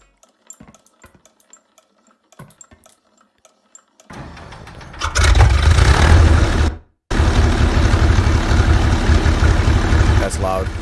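The engine of a Tiger II tank cranks and starts in Tank Mechanic Simulator, scattered clicks giving way to a loud, rough, sustained roar that cuts out briefly and then resumes at full volume.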